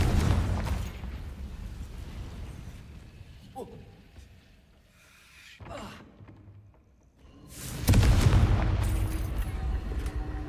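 Confringo explosive spell in Hogwarts Legacy going off as a loud rumbling blast at the start, a quieter lull with faint clicks, then a second strong boom that rolls on to the end.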